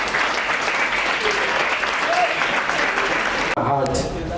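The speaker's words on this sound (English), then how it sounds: "So I really think we should give her a big round of applause." Steady crowd applause from an audience rolls on for several seconds, dense and even, with talking breaking in after it cuts off.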